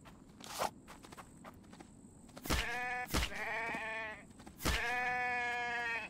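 A sheep in the game The Infected bleats twice with long wavering cries, mixed with crisp footsteps crunching on the ground, close and fairly quiet overall.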